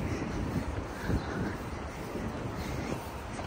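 Wind blowing hard into a microphone outdoors at sunset, a loud low rumbling buffet that surges and eases continuously, with no clear talk over it.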